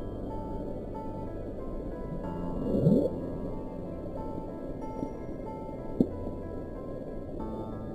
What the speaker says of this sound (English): The audio profile of Bloop does indeed resemble that of a living creature